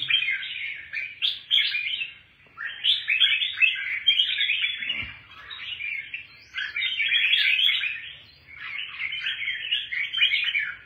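Birds chirp in quick repeated bursts of bright, close song, continuing almost without a break apart from a couple of short pauses. No one speaks.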